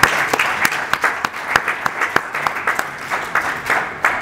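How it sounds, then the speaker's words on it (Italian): A medical congress audience gives a short round of applause, fairly close and moderately loud, with a few distinct sharp claps standing out over the steady patter of many hands, no talk. "dedichiamo questo un piccolo applauso"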